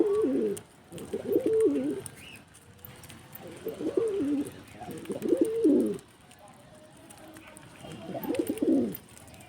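A pigeon being hand fed coos up close in several repeated bursts, each a soft throaty warble separated by short pauses, against a quiet background.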